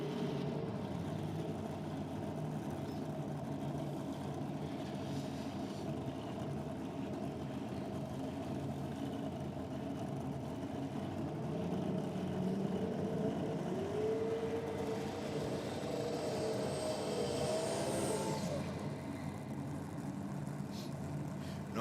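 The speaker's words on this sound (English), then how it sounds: "Nice strong burnout down there from Chris Manx. The turbocharged Altered" A turbocharged Bantam Altered drag car does its burnout at Sydney Dragway, distant and partly buried under the steady idle of a nearby rear-engine dragster, with a rising whine and roar swelling midway, then fading back to the constant engine drone.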